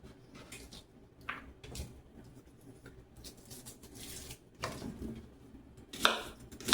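Knife chopping a Vidalia onion on a cutting board, several soft uneven taps and cuts spread through the moment, fairly quiet and close, with a sharper cluster of chops near the end.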